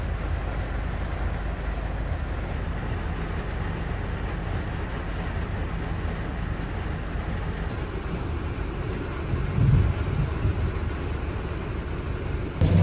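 Heavy rain pours down steadily in a dense, even wash with some wind, while a faint low rumble of thunder may sit beneath it; no one speaks.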